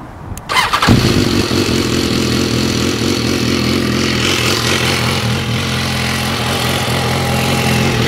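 A motorcycle engine cranks briefly and fires up, then settles into a steady, loud, close idle with a throbbing low rumble.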